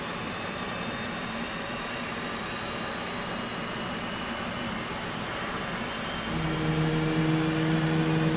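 An F/A-18 in the DCS combat flight simulator spools up during a cold start, a steady high whine and roar of the jet engine that grows louder and deeper near the end, with no speech.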